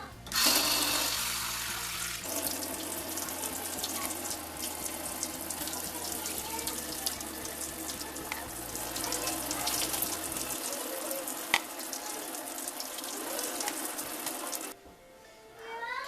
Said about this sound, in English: you're going to rinse it out with water.